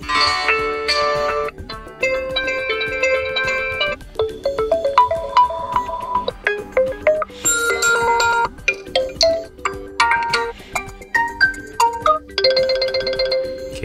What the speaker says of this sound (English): This is alert tones, okay.